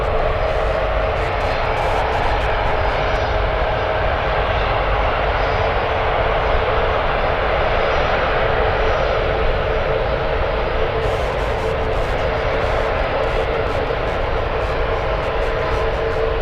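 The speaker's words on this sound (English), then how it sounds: "All right, A380 is taxiing on the runway." An Airbus A380 taxis on the runway at San Francisco airport, its jet engines giving a steady, loud, continuous roar and whine that holds unchanged throughout.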